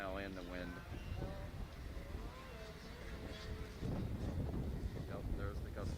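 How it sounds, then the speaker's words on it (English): Strong gust of wind buffets the microphone at an outdoor snocross race, a broad rumbling roar that swells louder near the end, with sled engines and an announcer's commentary underneath. "Yep, there's the gust of wind."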